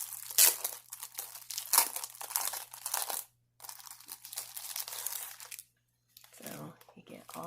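Sheets of Flowers for Every Season designer series paper crinkle and rustle in bursts of handling, with brief quiet gaps between the crisp paper sounds.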